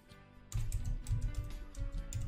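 Typing on a computer keyboard sounds as a quick run of close, clicky keystrokes, starting after a brief quiet moment and continuing steadily to the end.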